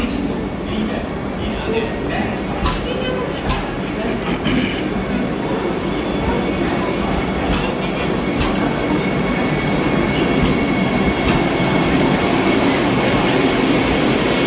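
Vande Bharat express train 22896 rolls at a station platform, a continuous loud rumble with squeals and clicks of wheels, while people talk nearby.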